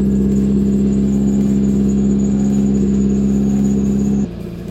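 A Mazda MX-5 fitted with MegaSquirt engine management idles after starting, a loud, steady, even drone with a fixed high whine that drops away abruptly near the end as the engine is switched off.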